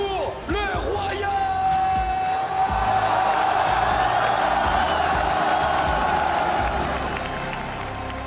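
Arena crowd at the MSI 2018 grand finals opening ceremony, a dense sustained roar of cheering and applause with whoops, loud and continuous throughout, a tonal note ringing through the middle.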